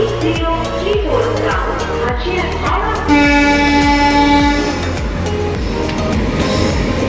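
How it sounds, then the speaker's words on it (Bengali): A train passing a station at night between Santragachi and Kharagpur, loud and close with a steady rumble and wheel clatter; a long horn sounds midway and holds for a couple of seconds. "রাতে স্টেশনে এরকম একটা ট্রেন ছুঁয়ে যাচ্ছে স্টেশনগুলো দেখতে"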